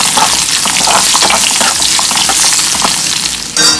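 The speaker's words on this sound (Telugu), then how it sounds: "కరివేపాకు వేసేటప్పుడు కొంచెం దూరం, లేకపోతే అవి మన మీద డాన్స్ చేస్తాయి" Curry leaves and crushed garlic hitting hot oil in an Andhra-style dal tempering, a loud, steady, close sizzle and crackle that runs continuously without pause.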